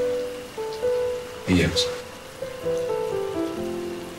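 Steady rain falls in a soft, continuous hiss, with a short burst of louder spatter midway, beneath brief speech and sustained musical tones.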